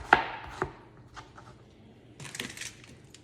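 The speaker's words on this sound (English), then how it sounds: "we're gonna go ahead and slice it into what I consider better pieces" A knife slices zucchini into wedges on a cutting board, two sharp close cuts near the start, fainter taps after, then a soft rustle of pieces being moved, with no talking.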